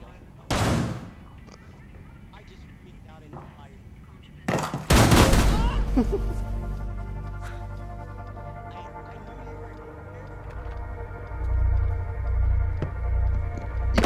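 Shotgun blasts ring out in the video game Rainbow Six Siege: two sharp booms, the second followed by a long rumbling tail and low hum, then more heavy low-end noise toward the end.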